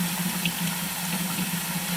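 Steady rushing spray of water during Weissbier brewing on a Pinter home brewing system, a continuous close hiss with a low pump-like hum underneath.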